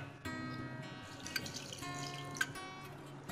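Water is poured into pav bhaji vegetables cooking in a pan, making a soft, quiet trickle with scattered small splashes and drips.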